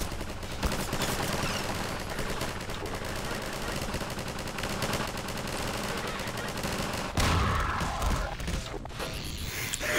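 Rapid, dense automatic gunfire rattles almost continuously in the Half-Life 2 co-op video game, loud and close, with a brief heavier burst near the end.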